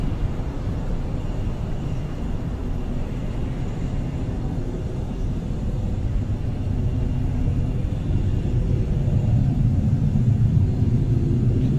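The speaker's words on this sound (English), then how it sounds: "And we have liftoff of Electron from Rocket Lab Launch Complex 1." Rocket Lab Electron rocket lifting off from Launch Complex 1, a steady, dense low rumble that holds for the whole stretch and swells slightly toward the end, with no voices.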